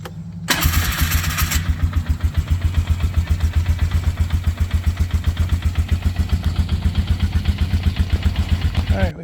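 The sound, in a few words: 2003 Polaris Sportsman 500 ATV engine started and running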